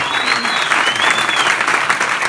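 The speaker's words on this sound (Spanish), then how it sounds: "un fuerte aplauso otra vez para él" Loud, dense applause from an audience at an event in Medellín, steady and unbroken for about two seconds, with a faint whistle-like tone drifting over the clapping.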